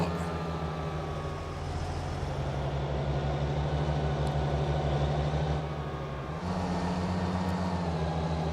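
Unimog engine driving with a bale trailer in Farming Simulator 19: a steady, loud diesel drone with a constant low hum that briefly dips then resumes at a slightly higher pitch near the end.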